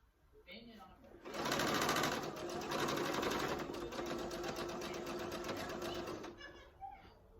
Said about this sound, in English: we're gonna sew again along that 1/4-inch seam on the edge